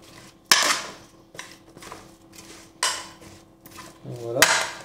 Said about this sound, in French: Et on remue.